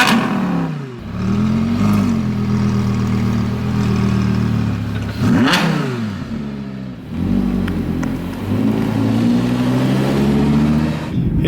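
An Audi R8 supercar pulls away, its engine revving up hard through several gear changes, loud and close with a throaty roar rising and falling.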